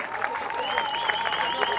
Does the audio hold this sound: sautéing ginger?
no